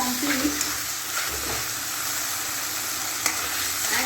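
A masala of ginger-garlic paste, coriander, cumin and Kashmiri chili powder sizzles in a pan as it is stirred, giving a steady close fry with soft scraping strokes.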